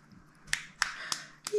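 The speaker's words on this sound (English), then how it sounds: "Yay, are we clapping?" A child claps their hands at lunch with four sharp, close claps at an uneven pace in a quiet room.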